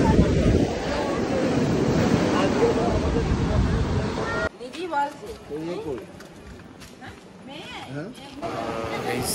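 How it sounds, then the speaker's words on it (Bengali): Ocean waves rolling in at Digha Mohona beach, a loud continuous surf roar with heavy wind buffeting the microphone; the crash eases midway, leaving gusty wind and more distant wash. "যেই বিচটা আমরা এখন রয়েছি এটা হচ্ছে গাইস দীঘার মোহনা নামের বিচ"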